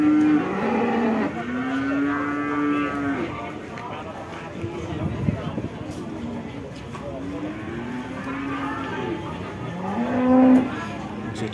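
Cattle at the Jetis cattle market in Ponorogo moo repeatedly, several long, deep calls at moderate distance, over constant crowd chatter and market bustle.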